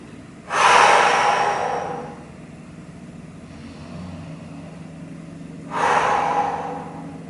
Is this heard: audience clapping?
no